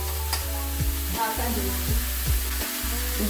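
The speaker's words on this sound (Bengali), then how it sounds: "ওদিকে লাউটা সাতলানো হচ্ছে" Chopped bottle gourd with salt and turmeric sautéing in a pan, a steady loud sizzle with intermittent scraping stirs and low kitchen hum, close up and continuous, no one speaking.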